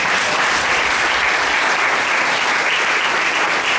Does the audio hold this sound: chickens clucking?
no